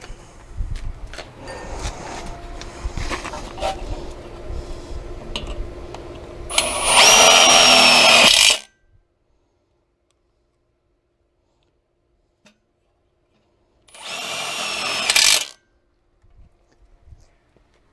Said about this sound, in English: What I usually do is start out putting 2 screws in the hinge on the one side